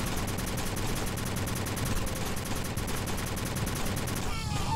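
Steady, rapid gunfire in the game Kickass Commando, a dense continuous rattle of machine-gun shots that runs loud and close without pause before breaking off at the end.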